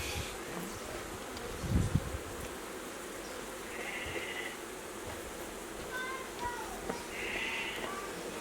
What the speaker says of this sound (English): Lots of bees in this box